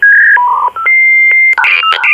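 Telephone keypad tones ring out loud and close as a quick series of sharp electronic beeps, each key press a short dual-pitch tone, some held longer, with a few rapid presses at the end.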